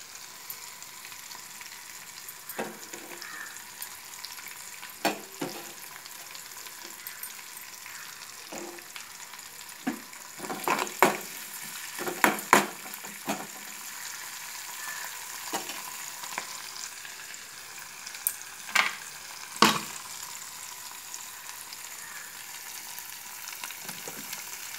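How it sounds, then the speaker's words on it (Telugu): Curry leaves sizzling in hot oil for upma, a low steady crackle punctuated by occasional sharp stirring clatters and scrapes of a spoon against the pan, heard close with no voices. "కరివేపాకు వేస్తున్నాను."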